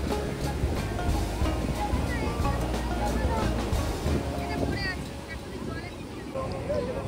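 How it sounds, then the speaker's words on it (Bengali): Large ocean waves break and wash onto a beach in the morning, a steady roaring surf with gusty wind rumble throughout and a slight lull near the end. "আর ঢেউগুলো বেশ বড় বড় আসছে এখন।"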